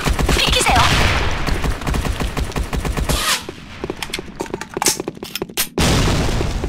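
A grenade thrown and exploding in the Sudden Attack online shooter, with loud dense booms and rapid gunfire bursts that drop out briefly before the barrage resumes at full volume.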